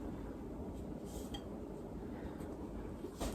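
Goulash with peppers, diced tomatoes and onions being served into a bowl, a few soft clinks of a utensil against the dish, faint and close, over quiet kitchen background.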